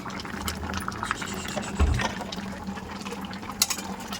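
Water is poured in a home kitchen, a gentle running and splashing trickle with one brief heavier gush partway through, close and moderately quiet.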